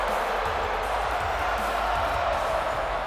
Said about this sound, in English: just listen to the crowd in Atlanta, Georgia